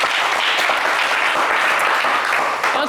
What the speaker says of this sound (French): Olivier, vous méritez beaucoup d'applaudissements.